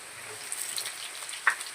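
Elephant foot yam fries in a pan on a home stove with a soft, steady sizzle and a single brief pop near the end, faint and with no talking.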